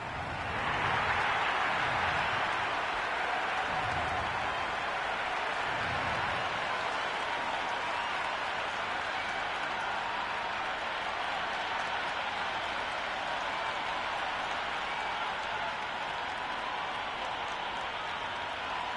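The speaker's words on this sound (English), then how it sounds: "already the crowd is up and about" Cricket crowd at a Big Bash League match between the Melbourne Renegades and Melbourne Stars, a steady broad roar of cheering and applause filling the ground continuously before play begins.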